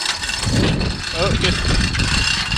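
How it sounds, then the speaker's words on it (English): An engine block heater runs on a hot rod truck with Mopar power during a frame swap, giving a steady broadband hum with rumbling low tones and some voice-like noise mixed in. "that was just the block heater"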